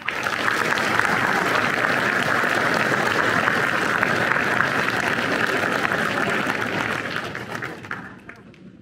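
Sustained audience applause at an 8th grade promotion ceremony, a dense steady wash of many hands clapping together that tapers off toward the end.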